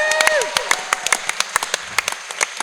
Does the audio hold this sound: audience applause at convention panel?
yes